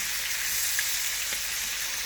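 Chicken pieces pan-fry in hot oil over high heat, giving a steady, dense sizzle and crackle throughout, close and alone with no voices.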